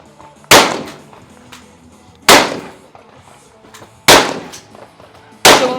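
Four loud, sharp gunshots from a rifle and pistol during a shooting competition stage, spaced about two seconds apart, each followed by a short echoing decay, with no talk.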